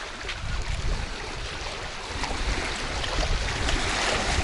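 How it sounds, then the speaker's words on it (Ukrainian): Strong wind roars and buffets the microphone in a constant broadband rush, with water washing underneath, out on the water while fishing for crucian carp. "Вітер страшний. Бачите, який вітер"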